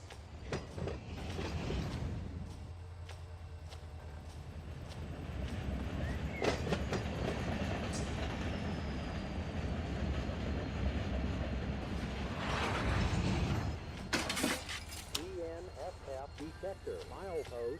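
A freight train rolls along in the Run 8 train simulator game, giving a continuous low rumble with faint clicking from the wheels. A brighter burst comes near the end, and a voice talks over much of the sound.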